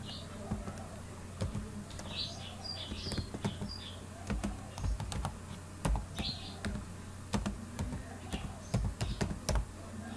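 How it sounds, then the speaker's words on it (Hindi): Quiet clicking of keys on a computer keyboard while working in Microsoft Word 2013, soft, irregular taps against a steady background hum, with faint buzzing sounds now and then. "अब यहाँ टाइप करेंगे"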